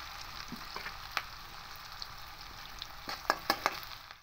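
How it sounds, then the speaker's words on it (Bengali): Soft, steady sizzling of cloves, cinnamon pieces and dried red chillies frying lightly in a pan, with scattered light pops and a few sharper crackles near the end. "এটা হালকা একটু ভেজে নেব।"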